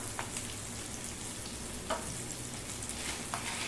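Tomatoes fry in a pan for an Indian okra gravy, a steady close sizzle with a few small pops over a continuous hiss.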